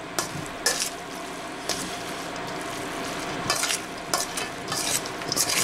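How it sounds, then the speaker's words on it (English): Mild cheddar cheese being stirred into hot brisket enchilada filling in a pan, giving a soft continuous sizzle broken by several sharp scraping strokes of a utensil against the pan. Nobody speaks. "While it's still hot, you want to stir that cheese in here while it's still hot."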